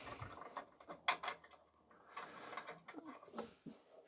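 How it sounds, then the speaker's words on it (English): A socket wrench tightens three bolts on an Allett Kensington or Atco Balmoral cylinder lawnmower, giving quiet, close ratcheting clicks in short irregular bursts with metallic knocks between. "just literally just start to do your bolts up"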